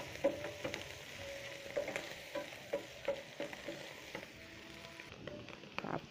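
Mushrooms frying in garlic and butter, a soft steady sizzle broken by repeated stirring clinks and scrapes of a utensil in the pan, close but quiet.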